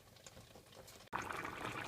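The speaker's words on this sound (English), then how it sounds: "I'm going to leave them boiling and boiling" Stuffed grape leaves with meat boil in a covered pot, giving a steady, soft bubbling simmer that briefly cuts out and then returns slightly louder, with no voices.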